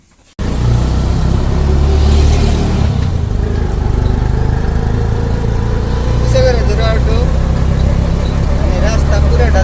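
A motorbike engine starts abruptly and runs steadily with a loud, close rumble as a family sets off in a village, with people talking over the running engine.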